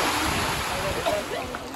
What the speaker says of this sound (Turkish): Dağdan aşağı muhteşem su akıyor.